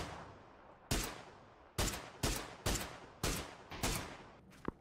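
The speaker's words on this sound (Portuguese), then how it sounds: "Eu vi que tu acertou o tiro de sniper nele" Rapid gunfire and sniper shots from a PUBG match: about seven sharp, loud reports, mostly spaced roughly half a second apart after an opening shot, each with a short decaying tail, with no speech.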